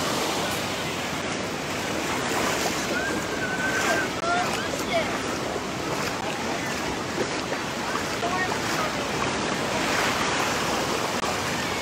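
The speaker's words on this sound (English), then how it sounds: "the sound of the waves." Surf washing ashore on Wildwood beach, a continuous broad rush of breaking waves mixed with wind buffeting the microphone, steady and fairly loud with no talking.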